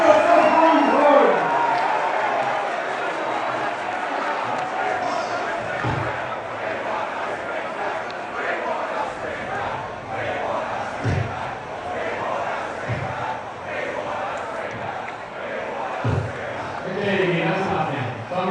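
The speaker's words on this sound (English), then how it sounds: "let's keep cheering the Socceroos, folks" Socceroos football fans gather in Sydney, a large crowd cheering and shouting together in a steady, dense roar with occasional louder whoops and thumps, voices mixed throughout.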